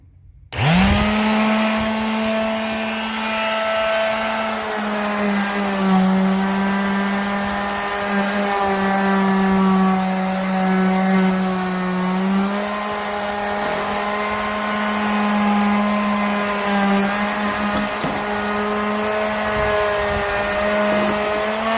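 A Mastercraft 2.2A electric sheet sander with 80-grit paper switches on and runs continuously, making a loud, steady buzzing whine whose pitch dips slightly as it bears on the surface, with no talking.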